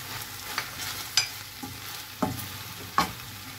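Chicken with tomato and a little paste sautés in a pan, a soft steady sizzle broken by several sharp scraping and tapping stirs of a utensil.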